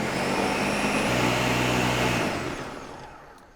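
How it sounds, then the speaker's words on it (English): A blender purees roasted tomatillo sauce with a loud, steady motor whir that holds for about two seconds, then winds down and fades out toward the end. "Go ahead and get this cover on and just puree the heck out of it."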